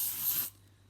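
A short hissing burst of air freshener sprayed from an aerosol can, close and fairly quiet, lasting about half a second before stopping abruptly.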